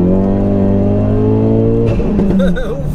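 A tuned 430bhp Ford Focus RS estate accelerates loudly from inside the cabin, its engine drone steady and strong before a shift into second gear. There is a brief rise and chatter at the change, then the revs climb again.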